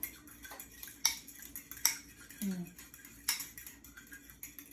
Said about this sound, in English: And then I'm going to stir that really well in there.